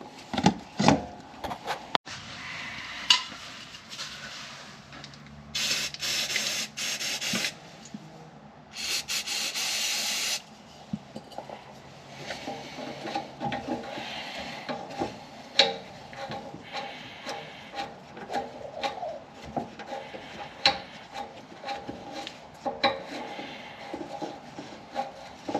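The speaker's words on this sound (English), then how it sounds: "spray some chemicals in there with a brush and go to town" Stiff bristles scrub and rub against a hard surface of a Ram truck's air suspension in uneven strokes, with a couple of long hissing sprays of cleaner partway through, all close and fairly quiet.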